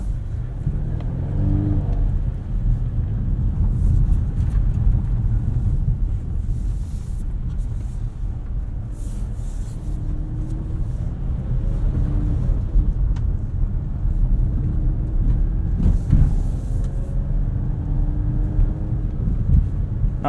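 A 2023 Volvo V60 Cross Country B5 engine hums steadily from inside the cabin in off-road mode, with a rumbling, slightly rising drone and faint wind noise throughout.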